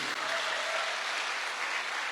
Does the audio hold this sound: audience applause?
yes